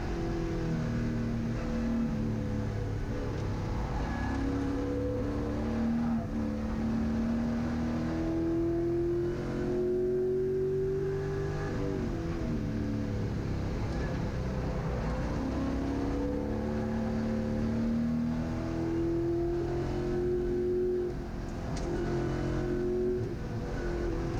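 GLTC race cars lap Gingerman Raceway during the Gridlife Midwest Festival, engines screaming continuously and loudly as they rev up through the gears, drop on shifts and rise again, with no voices.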